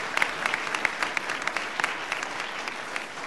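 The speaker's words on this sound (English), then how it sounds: "I would just say a big round of applause for our moderator, Kirk Miller." Audience applause for a moderator at a leadership event, a moderate crowd clapping steadily with scattered sharper claps, fairly soft and even for a few seconds.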